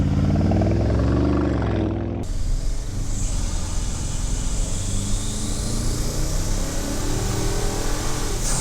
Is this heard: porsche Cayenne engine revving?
yes